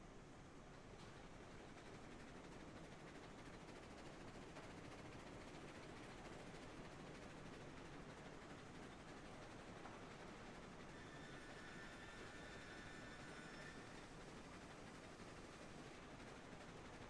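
Steam locomotive in the Railroads Online video game slowing by reversing against its own motion, giving a steady, loud, rumbling roar with gritty mechanical texture and a brief high squeal near the end, with no talking.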